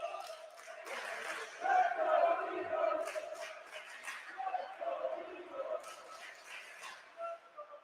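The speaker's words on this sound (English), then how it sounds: "You can hear the crowd really into this one." A lively crowd roars and cheers steadily through a hockey game at a showcase tournament, the noise rising and falling while a commentator talks over it.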